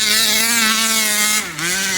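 Rovan Baja 45cc gas RC car on its stock engine screaming at full throttle, a loud, steady, high-pitched two-stroke whine that dips briefly as the revs drop and then climbs back up.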